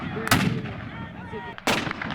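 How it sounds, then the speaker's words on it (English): Two heavy artillery blasts from a Battle of Shiloh reenactment, each a sudden loud broadband boom followed by a rolling rumble, spaced about a second and a half apart with no voices. "The artillery barrage from both sides was devastating."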